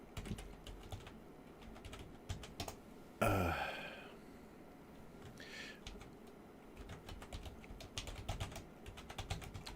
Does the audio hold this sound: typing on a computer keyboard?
yes